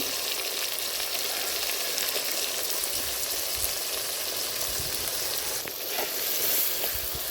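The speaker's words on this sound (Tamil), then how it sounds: "நல்லா வதங்கிற அளவுக்கு கிண்டிக்கோங்க நல்லா வதங்கிருச்சு தக்காளி" Tomatoes with rock salt sauté in a pan for village-style puli kulambu, a continuous close sizzle with soft scraping as they are stirred, steady throughout and free of talk.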